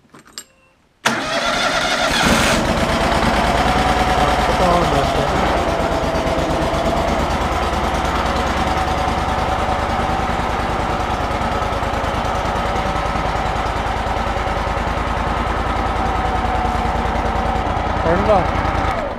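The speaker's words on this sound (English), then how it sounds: "show them how to start this mower" A lawn mower engine cranks and catches about a second in, then settles into a steady, loud idle close by. Voices can be heard faintly over the running engine.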